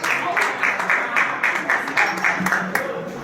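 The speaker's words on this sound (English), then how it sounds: "Let's give him a round of applause, please." Audience applause at an awards roast and gala comes in rhythmic bursts of clapping, fairly close, with voices talking over it.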